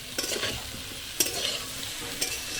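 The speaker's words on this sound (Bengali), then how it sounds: "এঁচড় আলু ভাজা হয়ে গেল" Young jackfruit and potato chunks fry in hot oil in a pan, a steady close sizzle broken by three sharp scraping stirs at roughly one-second intervals.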